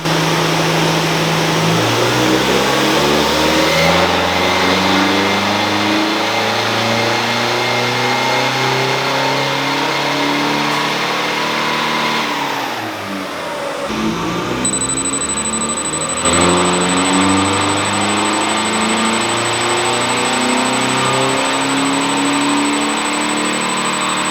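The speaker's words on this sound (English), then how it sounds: "With the new turbo fitted, we headed back to the dyno." A Nissan Navara D40 turbo diesel with a newly fitted turbo revs hard on a dyno, its loud engine note climbing steadily, dropping briefly midway, then climbing again without any voices.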